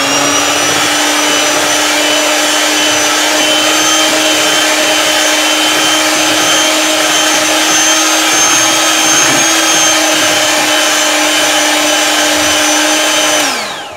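An electric beater whips butter frosting with powdered sugar and vanilla essence, giving a steady, loud, high motor whine that runs unbroken for the whole stretch before winding down at the end.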